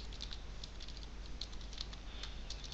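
Computer keyboard typing, a steady patter of light quick keystrokes close by with no voice over it.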